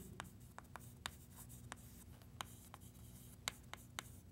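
Marker or chalk writing on a board during a math lesson, a quiet run of short scratchy strokes in an irregular rhythm, with the pen tapping and squeaking against the surface.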